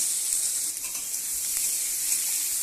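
Boiled potatoes fry in hot oil with dried red chili and turmeric, giving a steady, bright, close sizzle with no other sounds.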